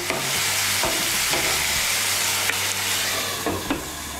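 A spoon stirs mung dal and potatoes in a hot pan on the stove. Continuous loud sizzling and hissing runs throughout, broken by a few sharp scraping clicks of the utensil against the pan.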